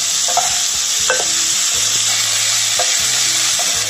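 Ridge gourd sautéing in a generous amount of oil, with a steady loud sizzle and repeated scraping and clanking of a spatula stirring the pan throughout, no voices.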